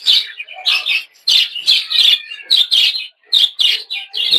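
Cage birds in a breeding aviary, with violet-colored birds among them, chirping close and loud in quick, bright bursts of repeated tweets separated by brief pauses.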